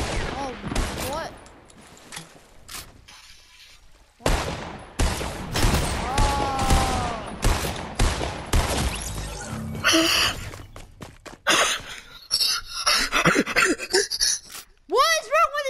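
Video game gunfire in bursts, rapid repeated shots close and loud with brief gaps, while players talk over it.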